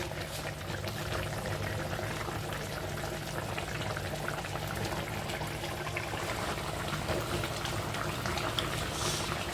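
Fish curry with eggplant bubbling in a pot, a steady, continuous boiling hiss and simmer with no talk, even in loudness from start to finish.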